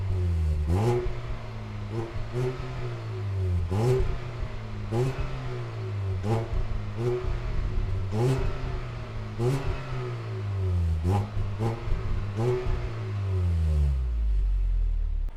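Chevrolet Malibu 2.5L engine with a sporty tuned exhaust sound and an open performance air filter, revved repeatedly in short rising bursts that fall back each time, loud and close with a steady rhythm.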